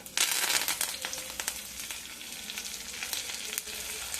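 Loud, crackling sizzle as curry leaves hit hot oil with mustard seeds, cumin and lentils in a tempering for sorrel leaf dal, bursting sharply at first, then settling into a steady, softer fry with no talking.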